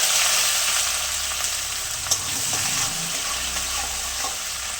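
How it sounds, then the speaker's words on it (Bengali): Chopped onions and dried chillies frying in hot oil in a pan, giving a steady loud sizzle with a few soft stirring scrapes, close up and without talk. "শুকনো লঙ্কা দিলাম, কুচানো পেঁয়াজ দিলাম,"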